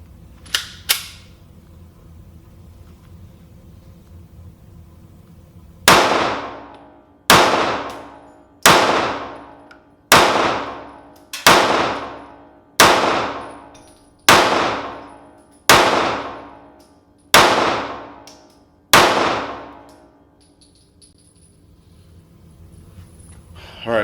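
Ten pistol shots from a Sccy CPX-2 or DVG-1 handgun fired at steady intervals of roughly a second and a half, each a loud sharp crack with ringing decay, preceded by a couple of faint clicks and no talking.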